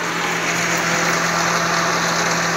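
Shifeng 240 tractor engine idling just after the ignition is switched on, a loud, steady low rumble with a constant hum, heard close up with no speech.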